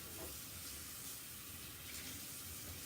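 Kitchen sink sprayer hosing water over a chalk transfer to clean it, a continuous hissing spray that stays even and fairly faint throughout, with no talk.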